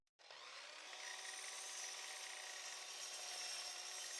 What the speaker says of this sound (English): Using the miter saw, I'll cut this piece in half to make 2 sections, each 1 meter long.